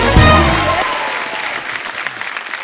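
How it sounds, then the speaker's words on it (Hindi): Studio audience at a comedy talk show bursts into loud applause welcoming two celebrity guests, a dense wash of clapping that starts strong and gradually thins over a couple of seconds. "एक बार जोरदार तालियां फरा मैम और रवीना जी के लिए।"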